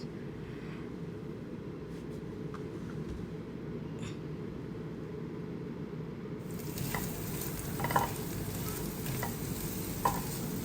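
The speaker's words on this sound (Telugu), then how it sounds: "బఠానీ వేయాలి తర్వాత స్వీట్ కార్న్ వేయాలి ఆ రెండు బాగా వే పచ్చివాసన పోయేదాకా వేపాలి" Peas and sweet corn being fried in a pan, a soft steady sizzle with occasional scraping stirs, growing slightly brighter and busier partway through, no one talking.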